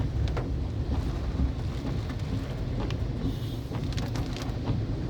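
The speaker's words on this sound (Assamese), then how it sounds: "আৰু গাড়ীবিলাকে দেখিছেনে কিমান পানী ছিটিকাই আহি আছে।" Cars splash through water on a rain-soaked road near Dolibari, on the way to Sualkuchi, heard as a steady wash of rain and tyre spray with brief swells of passing traffic throughout, no voices.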